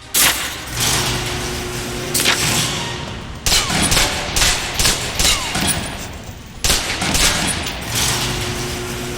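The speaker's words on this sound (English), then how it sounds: "Now for your submachine guns" Submachine gun fire in the video game Alpha Protocol: loud bursts of rapid shots in several clusters, separated by short pauses with mechanical clatter and game ambience between them.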